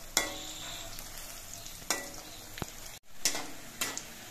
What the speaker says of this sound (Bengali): এবার বড়াগুলো উল্টে পাল্টে ভেজে নিতে হবে।